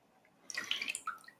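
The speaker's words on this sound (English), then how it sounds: "And we'll go ahead and pour this on here." A 25% calcium hydroxide solution is poured onto an old comic book, giving a soft, close trickle and a few drips and splashes lasting about a second.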